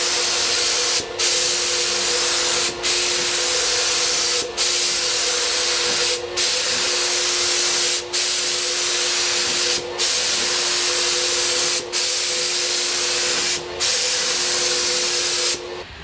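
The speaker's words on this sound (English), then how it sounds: "spray painting everything" A spray gun hisses loudly in long steady bursts while spray painting furniture, each blast running about a second and a half to two seconds, broken by brief regular pauses.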